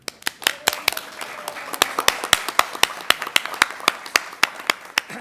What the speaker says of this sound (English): Can we give a round of applause to Megan Hughes?